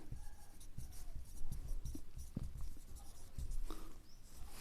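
Pen strokes drawing lines and writing on paper during a math lesson, a series of close, soft scratching taps in an uneven rhythm.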